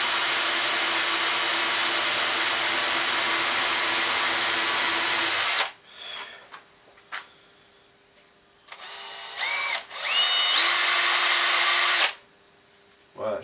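A power drill whirs loudly and continuously while boring a hole for a paper towel holder, stops abruptly, then follows with short bursts and a few brief whines separated by quiet gaps and faint handling noises.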